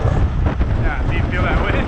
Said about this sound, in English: do you feel that wind?